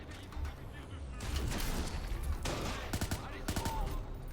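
Grenade explosion in the video game Watch Dogs, a loud burst followed by a rumbling tail, then a rapid series of sharp cracks and clanks close by.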